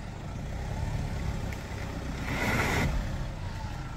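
An XUV's tyre spins during offroading, the engine revving hard and straining for a few seconds with a swelling roar of tyre and motor, close and loud.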